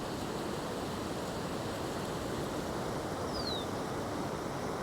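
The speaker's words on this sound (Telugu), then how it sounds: "కుర్రు ప్రాంతం మొత్తం వాటర్ ఫ్లో చూడండి ఇంకా తగ్గడం లేదు" Floodwater of the Godavari river rushes across farm fields in the Kurru area near Munipelly, a steady, dense, loud roar that holds unbroken and even from start to end.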